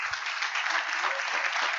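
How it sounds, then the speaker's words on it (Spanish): A church congregation claps together in a steady, dense round of applause, heard from a moderate distance for under two seconds. "Dele un aplauso al Rey por eso."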